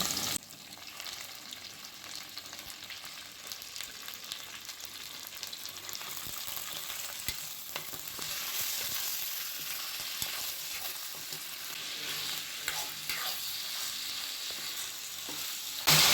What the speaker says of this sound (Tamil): நல்லா ப்ரௌன் ஆகிற வரைக்கும் வதக்கி விட்டுக்கிட்டே இருங்க